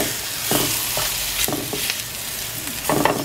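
Cauliflower rice seasoned with chili powder frying in a pan, with a steady sizzle and several scraping stir strokes against the pan, close and moderately loud with no talking.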